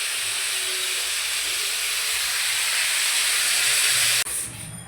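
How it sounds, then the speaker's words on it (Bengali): Potatoes fry in a pan with a loud, even sizzling hiss that drops abruptly near the end, and no one speaks. "এই আলুটা ভাজছি"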